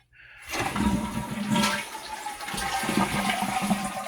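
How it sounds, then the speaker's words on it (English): A cheap Glacier push-button toilet flushes with a sudden rush of water that settles into a steady gurgling drain and refill. It sounds close and moderately loud, with no voices. "It's a kind of like a really cheap toilet, but it has the push thing"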